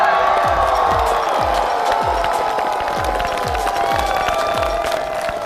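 Studio audience at a comedy show in Changsha applauding and cheering to welcome a performer, a dense, loud wash of clapping with whoops and a rhythmic thumping beat running underneath.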